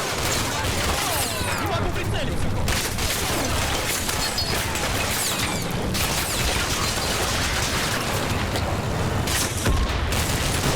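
Small arms fire and grenades in Combat Mission: Cold War, a dense, continuous clatter of gunshots and crackling bursts with occasional booms, steady and loud throughout.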